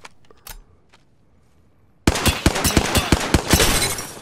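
Gunfire in an Apex Legends match: a few faint distant shots, then a sudden burst of loud, rapid automatic fire with sharp repeated cracks continuing to the end.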